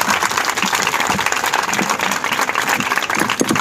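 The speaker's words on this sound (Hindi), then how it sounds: "भरपूर तालियों के साथ उनका इस्तकबाल कीजिए।" An audience at a Quran study diploma ceremony applauds steadily, a dense wash of clapping that holds at an even level throughout without voices.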